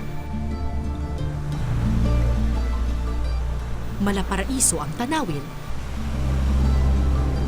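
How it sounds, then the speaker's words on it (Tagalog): Pacific Ocean surf and wind off the small coastal town of Palanan, Isabela form a low, constant rumbling wash, while a narrator speaks over it in the middle. "pero mabangis ang alon at hangin."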